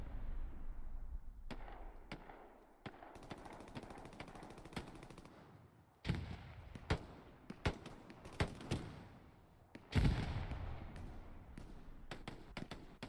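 Rocket blasts and explosions in a large 18 versus 18 online shooter match, sharp booming bursts ringing out repeatedly over steady battle din of gunfire, with heavy impacts around six and ten seconds.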